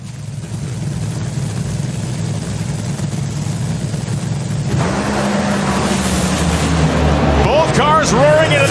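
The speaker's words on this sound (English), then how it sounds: "Cars roaring into the Texas afternoon" Top Fuel drag cars roar down the strip at the NHRA FallNationals in Texas, a loud sustained engine blast that swells midway as the run builds, heard under an announcer's commentary.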